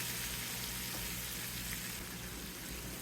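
Green beans and garlic frying in a hot pan over high heat, a steady, fairly quiet sizzle that hisses continuously without pause and without any talking.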